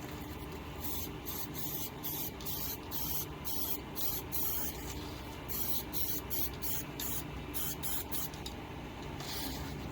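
Bursts of aerosol spray paint hiss in quick, irregular pulses onto a hundred-year-old banjo case, close and fairly quiet, with short pauses between sprays.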